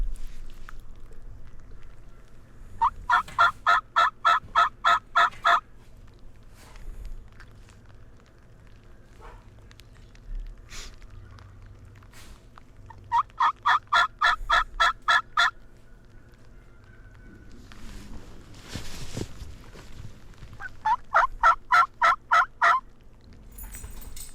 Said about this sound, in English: I'm going to start hearing hens for the first time down in front of me here